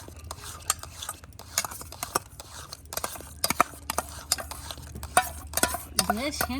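A spoon stirs a sour yogurt mixture in a pot while a sweet bread-and-yogurt dessert is being made. Scraping strokes and clinks on the metal repeat irregularly and close by, with a faint voice near the end.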